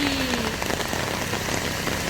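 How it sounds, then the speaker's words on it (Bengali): Heavy rain pouring down steadily outdoors, a dense, loud, even hiss of drops striking surfaces, close and unbroken throughout with no talk. "প্রচণ্ড জোরে বৃষ্টি পড়ছে"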